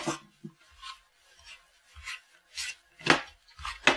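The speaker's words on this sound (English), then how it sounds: "these pastry blenders are very nice" A pastry blender cuts butter into flour for rugelach dough in a steady series of soft, scraping, crunchy strokes, about two per second, close and clear with no talking.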